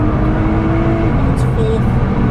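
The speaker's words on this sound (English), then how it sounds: "Accelerate, accelerate. Up into third." Race car accelerating hard on the Cadwell Park circuit, engine note rising steadily through a gear change into third, loud and continuous from onboard with a voice talking over it.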